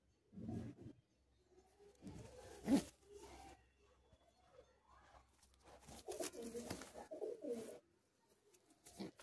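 Madras pigeons coo inside a cage at close range, several soft throaty rolling coos in irregular bursts with quiet gaps, plus some rustling and fluttering movement.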